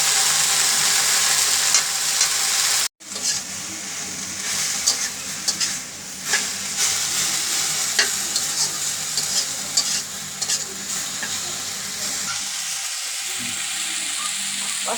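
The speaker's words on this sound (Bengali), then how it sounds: "পাট শাকের ঝোলটা দিয়ে নিলাম।" Jute leaf curry with prawns sizzles steadily in a pan while being stirred, a continuous frying hiss broken by one sudden brief cut, with scraping stirring strokes throughout.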